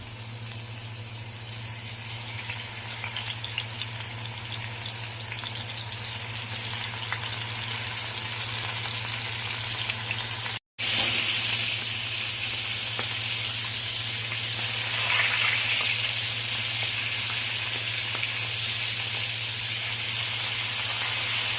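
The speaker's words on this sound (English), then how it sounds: "So i-fry ko na lang siya to bake quicker." Food frying in a pan, a steady close sizzle and hiss with faint steam that holds throughout, briefly cutting out once before resuming, with a dish of chili and cucumber being prepared nearby.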